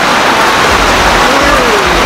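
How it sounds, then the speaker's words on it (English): Steady rain hisses close by at an outdoor food market in Singapore, a dense, constant wash of noise with a low rumble underneath. "it just started raining, so it's kind of noisy"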